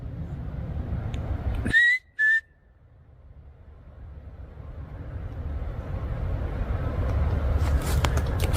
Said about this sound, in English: a faint whistle echoes through the trees